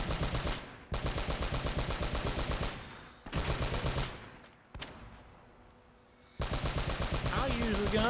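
Automatic gunfire in Uncharted: Drake's Fortune, loud rapid bursts of rhythmic shots broken by short pauses, with a final sustained burst after a near-silent gap.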